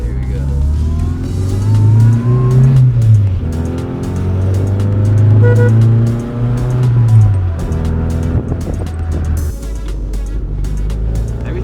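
A Rover Mini pulls away with its engine revving up and down through several gear changes, a close, rasping drone that rises and falls in pitch before settling to a steady idle-like hum, with people talking faintly over it.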